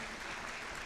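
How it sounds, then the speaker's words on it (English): A crowd applauds the judges at a district robotics competition event in Gwinnett, a fairly quiet, even wash of clapping heard from a distance with faint voices mixed in. "please give them a huge round of applause one more time"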